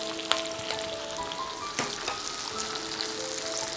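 Capsicum sizzles in a frying pan for potato manchurian, a soft, steady crackle throughout with light scattered pops and spatters.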